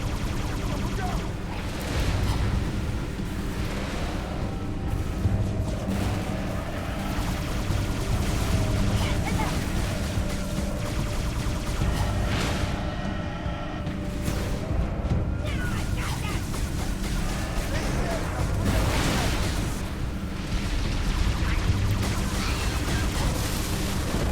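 Turret gunfire in Halo 3 ODST, a sustained loud barrage of rapid shots and blasts layered over constant rumbling battle noise, with occasional voices mixed in.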